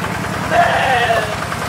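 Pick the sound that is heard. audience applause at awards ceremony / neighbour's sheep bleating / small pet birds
neighbour's sheep bleating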